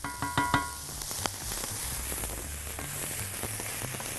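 Tomato sauce poured onto onions frying in a pan for eggplant and chickpea shakshuka, a few sharp splashes at first, then a steady close sizzle with light crackles, no talk.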